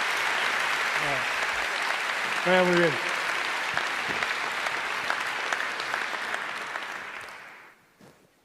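Strong, steady applause from an audience at a national canoeing gala fills the room, with a voice speaking briefly over it near the start before the clapping fades out.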